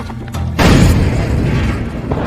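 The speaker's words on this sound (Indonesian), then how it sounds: "Setelah mendengar suara ledakan tersebut, Jang pun langsung keluar memeriksa keadaan" A loud explosion bursts in suddenly after a quieter start, a deep booming roar that rumbles on and slowly fades, with no voices over it.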